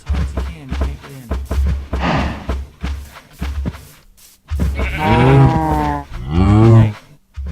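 Cows mooing in Minecraft's farm setting, a few drawn-out bovine calls rising loud and close after a series of short blocky in-game sounds, with no talking over them.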